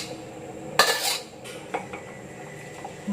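A spoon scrapes and clinks against a cooking pot while spices are stirred into broth for soto Betawi, one loud scrape followed by lighter knocks and clinks, close and with no voices.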